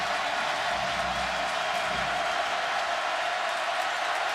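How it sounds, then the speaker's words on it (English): Huge stadium crowd at the 2011 Florida State vs Clemson football game, a broad steady roar of cheering and noise filling the whole span, loud and sustained without a break. "This huge crowd trying to help the defense of the Clemson Tigers"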